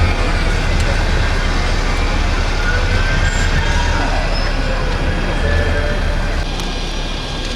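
A tram moves through Eccles tram station in Manchester, producing a steady, loud rumble of close road and rail noise that continues throughout and fades slightly at the end.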